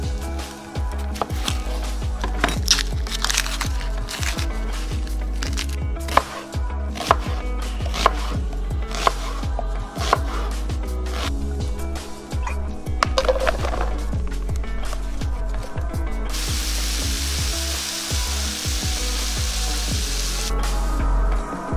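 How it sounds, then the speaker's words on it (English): Onions and mushrooms being chopped with a knife on a cutting board, a steady run of loud, close, irregular chops over constant background sizzle, with a brighter hiss of sautéing rising toward the end. No one speaks. "It's a perfect opportunity to start cutting up your onions, your mushrooms, and sauteing them for the coverings."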